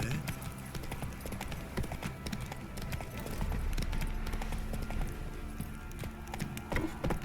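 Horse hooves galloping in The Witcher 3: Wild Hunt, a steady clip-clop rhythm running throughout with game ambience and a rider's voice calling out over it.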